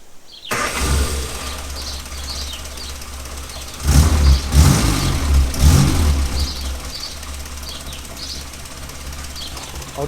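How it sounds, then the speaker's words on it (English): A Morris Minor's engine starts after a brief silence and settles into a low, steady idle, with a few louder rumbling surges partway through before returning to an even running hum. "after we switch the engine on"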